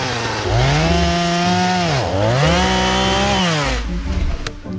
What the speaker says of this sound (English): From there, you can bring in the chainsaw.